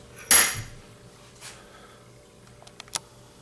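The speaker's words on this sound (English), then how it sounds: "Let me get this out of the vise." A vape mod part being pulled free of a bench vise during a Sigelei Zmax repair gives one loud metallic clank, then a softer knock and a couple of small taps, close by with no talk.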